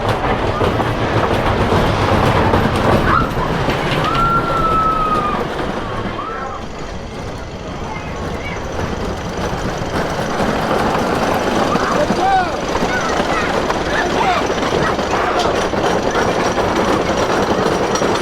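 A CCI wooden roller coaster train from 1994 with PTC trains rumbling and clattering along the track, loud and continuous, with occasional squeals and screams from riders, at Michigan's Adventure.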